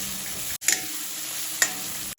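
Tomatoes tipped into a pan of softened, salted onions, giving a broad steady sizzle with two brief clattering stirs and a short drop partway through; no one talks.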